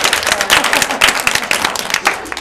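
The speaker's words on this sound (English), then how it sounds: "Clap if you like kissing." Audience clapping at a poetry reading, a dense burst of many hands applauding together at close range, steady and fairly loud throughout the short stretch.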